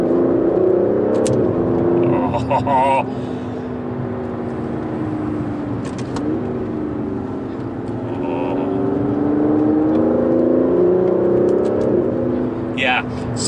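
An Aston Martin DB11 drives hard along bumpy New Forest roads, chasing a V12 Vantage S. The engine hums loud and steady, swelling as it revs, while a person inside speaks briefly over it.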